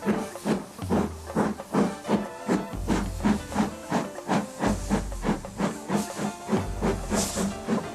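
Rhythmic steam chuffs and hisses from a steam locomotive leaving Butterley station, repeating steadily at close range with a low rumble beneath.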